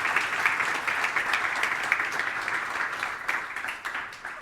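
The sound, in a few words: audience applause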